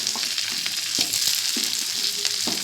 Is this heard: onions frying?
yes